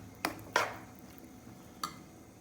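A spoon scrapes and clinks against a pan while modak filling mixture is stirred, giving three short, sharp metallic knocks spaced irregularly over quiet background.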